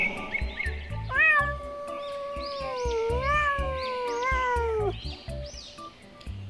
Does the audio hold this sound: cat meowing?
yes